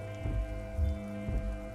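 Rain falls steadily in the Disco Elysium game world, a soft patter over a constant low ambient hum with no voices.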